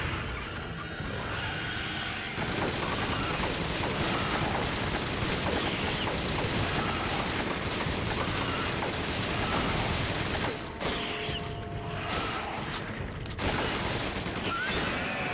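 Gunfire from the video game Resident Evil 5, a dense, continuous barrage of shots and mechanical clatter filling nearly the whole stretch, loud and steady with a brief thinning near the end.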